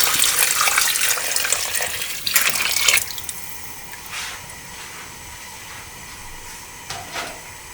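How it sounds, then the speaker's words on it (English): Water runs into a cooking pot for Afghan beef Kabuli pulao, a broad splashing pour for the first three seconds that ends abruptly, followed by quieter kitchen rustles and a couple of light clinks. "now we're going to add our water"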